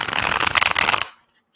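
Tarot cards shuffled in a close, steady riffling burst lasting about a second, then stopping abruptly into near silence.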